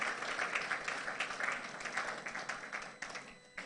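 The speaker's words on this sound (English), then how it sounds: "he deserves another round of applause" Crowd applause at a book launch, a dense patter of many hands clapping at moderate volume throughout, slightly distant and fading a little toward the end.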